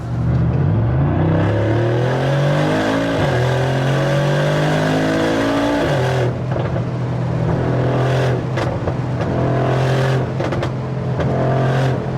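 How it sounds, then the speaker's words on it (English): A 740 hp Mercedes G63 AMG V8 revs up loudly and close, the pitch climbing through repeated accelerations with a deep burbling exhaust, no talking over it. "So I will literally just accelerate and just listen to this V8 burble."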